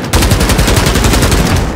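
The Armaguerra 43 fires in a video game as one rapid, loud, continuous burst of automatic gunfire lasting almost two seconds, with no talking.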